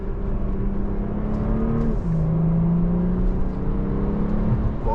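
A BMW M340i G20 cruises from inside the cabin, its engine a subdued, steady drone with a smooth shift in pitch partway through, muted and unobtrusive over road hum.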